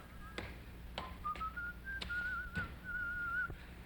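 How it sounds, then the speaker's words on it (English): A man whistles a short, steady tune, fairly quiet and close, punctuated by sharp clicks and knocks in a faintly humming room. "that fella there, whistling"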